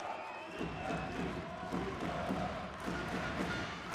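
Arena crowd at a women's handball match between Hungary and Denmark at the EHF EURO 2014, a steady roar of fans cheering and shouting throughout, with scattered thuds from the court beneath.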